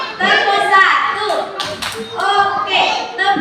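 A class of schoolchildren in a classroom clapping together in a rhythmic clapping game, sharp bursts of hand claps mixed with children's voices chanting along, close and loud.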